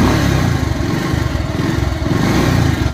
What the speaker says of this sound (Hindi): तो सबसे पहले मैं बाइक को कर लेता हूँ स्टार्ट